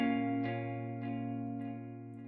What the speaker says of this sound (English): just filter it out a little bit, adding some delay and some chorus